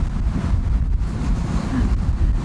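Strong wind at sea buffets a sailing catamaran on an upwind passage, a loud continuous roar and microphone rumble with wave wash beneath, no voices.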